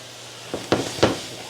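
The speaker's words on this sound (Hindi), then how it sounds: "चाशनी शामिल करने के बाद आपने फ़ौरन चम्मच जो है वो हिलाते रहना है।" Semolina halwa roasting in a pan as sugar syrup is poured in, giving three short sizzling bursts of hissing steam with spoon stirring, close and fairly quiet.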